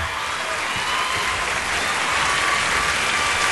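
A crowd applauds a singer at an awards show, steady, dense clapping filling the whole stretch without letting up.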